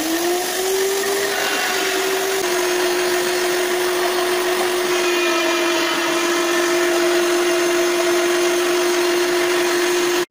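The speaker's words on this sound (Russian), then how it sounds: "вот насадка на мясорубку, это терка" An electric meat grinder fitted with a grater attachment shreds carrots, giving a steady, loud, continuous motor whine with a constant pitch and no pauses, heard alone without talk.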